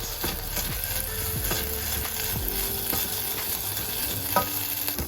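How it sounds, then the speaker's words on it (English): Rice frying in a pan and stirred constantly, a steady bright sizzle broken by regular scraping strokes of the spoon, close and continuous with no voices. "what you want to do is stir it all the time, until the rice starts to turn a little bit white"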